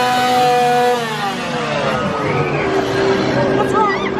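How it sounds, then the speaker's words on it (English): Chainsaw revving at a Halloween Horror Nights scare zone, a loud buzzing whine that rises and falls amid crowd noise and shouting throughout. "perhaps some maniacs with chainsaws running around"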